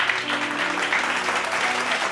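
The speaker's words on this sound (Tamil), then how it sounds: "கைத்தட்டு கைத்தட்டு." A church congregation claps steadily during a late-night Bible study gathering, a continuous fairly close wash of hand claps with a faint voice or tone lingering underneath.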